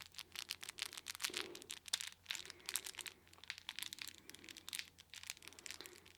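A crinkly Lovevery baby toy crackles and rustles in quick bursts as it is squeezed repeatedly, close up and fairly quiet, with no voices.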